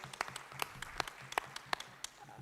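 Sparse, scattered handclaps from a few people at a conference, quiet and distinct, with individual claps spaced unevenly over a faint room hum.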